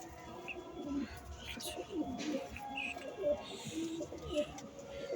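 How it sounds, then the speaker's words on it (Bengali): Lakkha pigeons in their coop give soft, repeated throaty coos, faint and close, with a few light chirps and low background murmur. "পায়রাগুলো দেখুন দাঁড়িয়ে আছে, সুন্দর। আমাদের লক্ষা পায়রা আবার ডিম দেবে বলে এই খোপে কাঠ চড়াচড়া করছে।"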